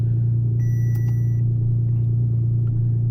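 A Ferrari 599 engine idles nearby with a steady, loud low rumble and an even throb, alone with no talking; a few faint clicks sit on top.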